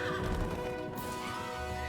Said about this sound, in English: Oh, look, a horse.